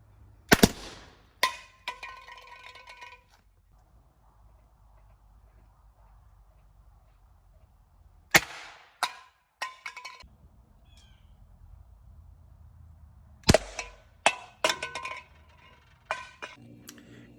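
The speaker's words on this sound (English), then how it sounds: "the 30 grains of gunpowder fired the can the farthest" Black powder charges of about 20 to 30 grains go off one at a time, each sharp blast firing a can into the air. Three main bangs come several seconds apart, each trailed by rattling clatter and smaller pops, with quiet stretches between.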